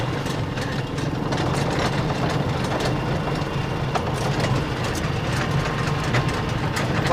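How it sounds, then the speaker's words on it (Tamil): The engine of a homemade mini lorry with a hydraulic tipper drones steadily while driving, a low rumbling motor with rattling texture heard close throughout, with no talking. "வண்டி நல்லா ஸ்மூத்தாக போகுதுங்க."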